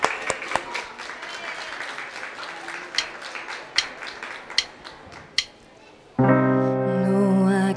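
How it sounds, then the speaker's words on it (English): Scattered clapping from a small audience at a kids' singing tour stop in a shopping centre, a few sharp claps spaced out and thinning, then music begins abruptly near the end. "On l'applaudit bien fort."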